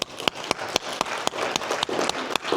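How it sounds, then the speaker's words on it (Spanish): A church congregation claps in praise of the Lord. A few distinct, sharp claps ring out at a steady rhythm above a softer background of many hands, and it is close and fairly loud. "Vamos a dar un aplauso al Señor."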